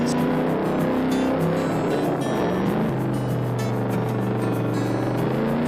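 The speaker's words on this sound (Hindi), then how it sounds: "यूं वो रेस शुरू हुई। सब लोग अपने मिनी बाइक में जा रहे थे।" Animated mini motorbikes racing in a comedy cartoon: a continuous, loud buzzing engine drone with shifting pitch as several small bikes run together, steady throughout without pauses.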